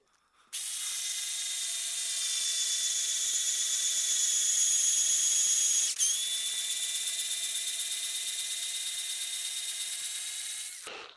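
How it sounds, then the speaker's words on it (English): A power drill bores a hole into the body of a DIY seven-string guitar kit, a steady high whine holding for about ten seconds with one brief dip midway, close and loud with no talk. "So I'm going to go ahead and start drilling this hole."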